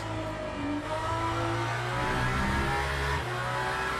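A hypercar engine held at top speed in the racing game Le Mans Ultimate, a steady high-pitched drone with a slight rise partway through, continuous and fairly faint, with no talking.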